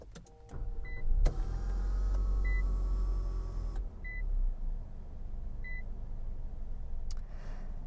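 Start-up of a 2023 Infiniti QX55 by push button brings a low motor whir and rumble, with a series of short electronic chimes beeping at regular intervals.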